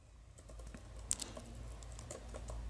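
Keystrokes on a computer keyboard while entering a command in a Linux terminal, a quiet run of soft taps with one sharper click near the middle, alone against low background hum.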